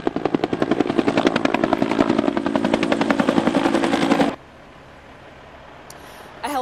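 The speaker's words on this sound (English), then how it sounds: "A helicopter made several water drops over this fire." A firefighting helicopter working a brush fire near Kit Carson Park in Escondido makes a loud, rapid rotor chop that beats steadily for about four seconds. It then cuts off, leaving quiet background noise.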